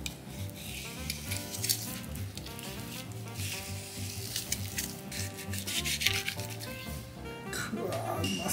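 Beef with a yukhoe-style marinade sizzles on a hot grill, a dense continuous crackle of fat with scraping and rubbing noises, while background music plays underneath.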